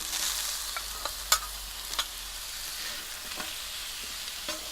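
Frozen beef sizzles steadily in a frying pan during a stir fry, a constant hiss with a few light scrapes and taps of stirring, close and alone without talk.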